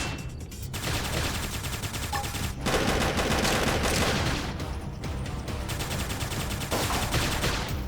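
Dense, rapid gunfire in the Xenoblade Chronicles X video game, with rattling bursts that continue almost without a break and stay loud and close throughout.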